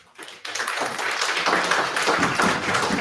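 Audience applause breaks out at a town hall meeting in New York, a dense patter of many hands clapping that rises sharply and holds steady and loud.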